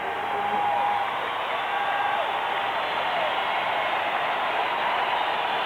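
Hockey crowd roaring inside the old Boston Garden at North Station, a dense, sustained wash of cheering that stays loud and steady throughout.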